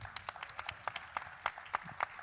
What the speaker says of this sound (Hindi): शुमंतो के लिए एक बार जोरदार ताली होनी चाहिए.